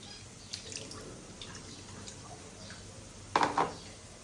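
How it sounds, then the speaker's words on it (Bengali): Water splashes and drips while a stone grinding slab (shil pata) is rinsed, soft scattered trickles and taps with a louder burst of splashing near the end, quiet and close. "শিল পাতাটা ধুয়ে নিচ্ছে।"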